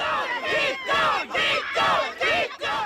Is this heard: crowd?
yes